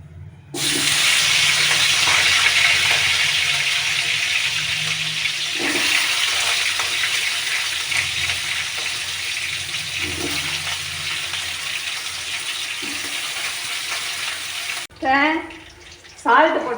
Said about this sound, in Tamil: எண்ணெய் சூடாகிடுச்சு. இந்த வாழைக்காயை இதில் போட்டுடலாம்.